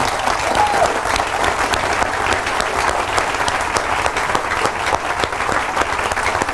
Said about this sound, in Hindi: give yourself big hand